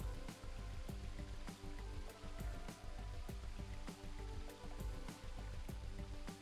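Steady rushing water from a waterfall in the video game Virtue's Last Reward, a continuous broadband wash with faint repeating clicks and taps over it, no voices.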